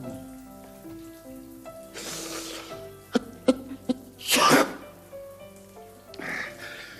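A single sharp sneeze bursts out midway through a quiet scene, with a few soft clicks and rustles around it and faint background music.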